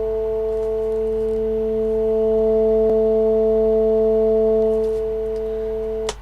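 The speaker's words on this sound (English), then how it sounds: "220 hertz sounds like this." A steady 220 hertz tone from a signal generator hums continuously at an even level for about six seconds, accompanied by faint harmonics and low background hiss, ending with a short click, with no speech.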